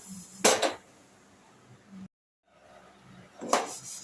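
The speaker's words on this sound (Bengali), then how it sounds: "এবার আমি ডালটাকে একটা প্লেটে ঢেলে নিচ্ছি" Roasted moong dal is poured from a pan onto a plate in a home kitchen. Two short, dry rattling bursts come a few seconds apart over quiet room tone.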